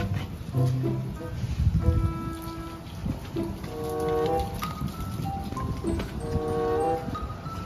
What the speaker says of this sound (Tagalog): Patak ng ulan.